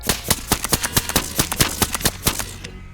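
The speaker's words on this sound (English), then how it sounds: "Once you overcome it, the gun will shoot." Rapid gunfire in the video game Metro Exodus played with a PS5 controller, a steady string of about a dozen loud, evenly spaced shots that stop abruptly after a few seconds, with no talking.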